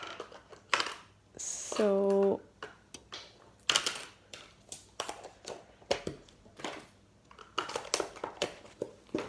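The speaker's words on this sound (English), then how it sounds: "you can hear coins in this one, coins in this one, and coins in this one" Coins thrown into containers and shaken, bursts of metallic rattling and clinks in quick clusters, with a brief electronic beep and a short spoken word.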